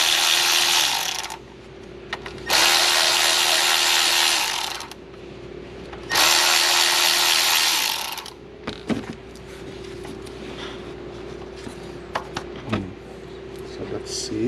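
A hand tool removing a pulley from the engine of a 2020 Genesis G70 2.0T: loud, close mechanical ratcheting in three long bursts with pauses, followed by scattered clicks and light clanks.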